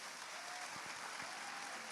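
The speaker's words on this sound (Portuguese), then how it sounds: "Vamos aplaudir as nossas crianças que vieram ao congresso." Faint, steady applause from a church congress audience for the children attending, a soft continuous wash of clapping heard from a distance with no talk over it.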